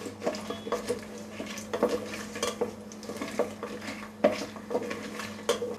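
Whole spices sauté in oil in a pan to a repeated scrape-and-clink of a metal spoon stirring against the pan, with a light sizzle underneath, close and steady.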